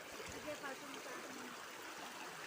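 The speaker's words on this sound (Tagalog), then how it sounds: "enjoy na enjoy kami guys sa paglangoy-langoy dito sa ilog ng Kalantas" The Kalantas river flows in a steady, close rushing stream with light trickling and splashing throughout, a continuous watery wash under faint voices.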